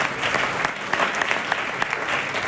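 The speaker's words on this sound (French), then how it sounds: "Clap for your hands." Congregation clapping hands during a church worship night in Johannesburg, a steady dense patter of applause from many people, fairly close and continuous throughout.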